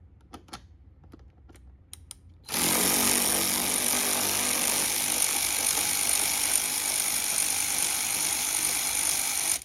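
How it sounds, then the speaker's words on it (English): A few faint taps, then a power tool abruptly starts and runs loudly and steadily with a high whine until the end, during Mazda Miata NB seat reupholstery. "Of course, power tools are awesome"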